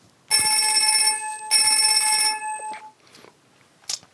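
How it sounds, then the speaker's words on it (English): A synthesized telephone bell built from additive partials rings in two bursts of sustained metallic tones, the second ending abruptly, followed by faint rustling and a brief click, with no talk. "Here's a classic additive synthesis model. It's a telephone bell."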